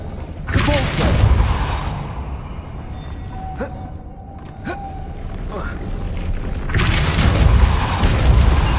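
A Depulso spell is cast in the video game Hogwarts Legacy, producing a loud whooshing burst, a quieter stretch with faint zaps, and then a second rushing blast near the end.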